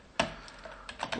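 A few keystrokes on a computer keyboard while a command is entered in a terminal, sounding as a sharp tap followed after a pause by a quick cluster of several more, close and fairly quiet.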